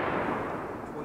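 A single .308 Winchester rifle shot fired through a muzzle brake with 150-grain Hornady Superformance SST ammunition: a loud, broad blast whose echo trails off over about a second.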